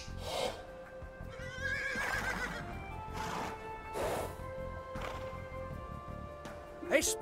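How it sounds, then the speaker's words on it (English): Horses neigh and whinny repeatedly in Age of Empires II within a royal stable scene, with several drawn-out calls spread across the stretch and a sharper burst near the end, moderately faint and mixed with background noise. "I have a horse for Rodrigo in my stable."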